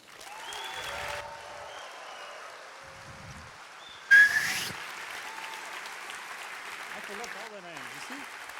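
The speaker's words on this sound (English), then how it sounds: "So big applause to Malta." Applause from a festival opening-ceremony crowd, brief and moderate, broken by a sharp loud burst mid-way, with a voice speaking over it throughout.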